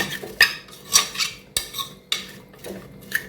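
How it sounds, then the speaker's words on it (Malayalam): Chicken curry being mixed in a pot, a spoon knocking and scraping against the metal in irregular clinks, close and fairly loud, with no talking. "എല്ലാം കൂടി ഒന്ന് യോജിപ്പിക്കുക"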